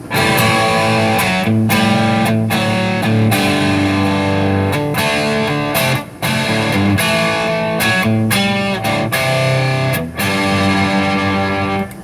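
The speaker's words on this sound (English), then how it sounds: "Now let's hit it with some distortion." A heavily distorted electric guitar, a Telecaster-style build, plays chords, loud and sustained with brief breaks between strums, filling the whole stretch with no voices.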